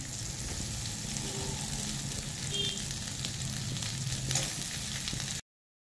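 Pasta is added to vegetables and spices frying in a pan, producing a steady, dense sizzle that holds evenly for several seconds before cutting off abruptly.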